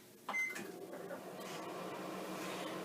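A microwave oven running, a steady low mechanical hum droning on throughout, with a brief clatter near the start.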